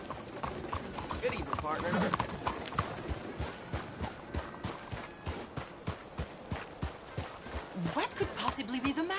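Horse hooves clip-clopping in Red Dead Redemption 2, a steady rhythmic walking gait that runs throughout, close and clear under a spoken greeting.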